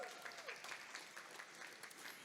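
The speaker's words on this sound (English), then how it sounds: "Give them a round of applause." A crowd claps steadily at a distance, a soft continuous patter of applause, at a charity gala event.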